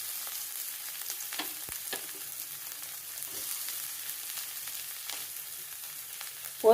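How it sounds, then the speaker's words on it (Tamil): Onion, green chili, urad dal, chana dal and curry leaves sauté in a pan for Rayalseema-style uggani. They give a soft, steady frying sizzle with faint stirring scrapes, heard alone with no voices, and a brief louder clatter comes at the very end. "இதெல்லாம் நல்லா வதங்கட்டும்."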